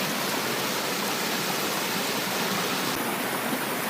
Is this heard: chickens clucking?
no